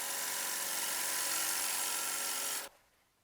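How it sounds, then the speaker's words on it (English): A bowl gouge cuts a spinning wooden bowl on a lathe with a loud, continuous hissing rasp. The sound ends abruptly near the close, leaving quiet. "So just using my bowl gouge, gliding on my bowl,"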